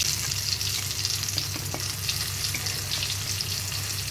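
Momos frying in hot oil in a small batch, a steady close sizzle holding through the whole stretch with no talking.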